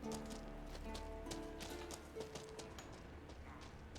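A horse gallops in The Witcher 3: Wild Hunt, with quick rhythmic clip-clop hoofbeats running steadily throughout, set against a dense game soundscape of music and ambience.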